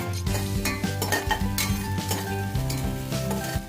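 Onions and whole spices fry in hot oil for a Kerala chicken dum biryani, a steady close sizzle broken by repeated scraping strokes of a spoon and clinks against the pot.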